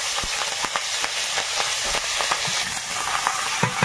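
Nigella seeds spluttering in hot oil in a wok, a close steady sizzle dotted with sharp irregular pops and crackles.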